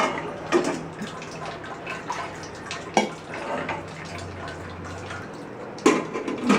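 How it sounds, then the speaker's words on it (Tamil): Water poured from a vessel into a pressure cooker over soaked lentils, a soft trickling and splashing in a quiet kitchen with a few sharper knocks of the container against the rim. "இது முழுகிற வரைக்கும் தண்ணி ஊற்றிடுங்க."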